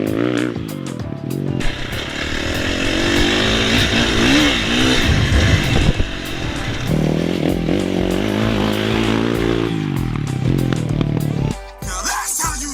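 A dirt bike engine is held on steady throttle up a jump face, buzzing loud and close with rising and falling pitch, then cutting out abruptly near the end.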